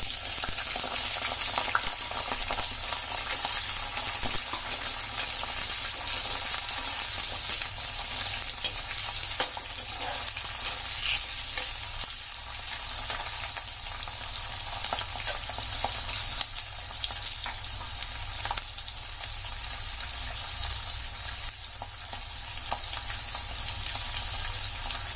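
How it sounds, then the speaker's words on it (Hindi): Bell peppers sautéing in hot mustard oil in a wok, a continuous soft sizzle and crackle with occasional stirring scrapes, moderately close, no talking. "तेल हमारा गर्म हो चुका है, अब मैं इसमें डालूंगी शिमला मिर्च। शिमला मिर्च थोड़ी से सौटे करेंगे हम।"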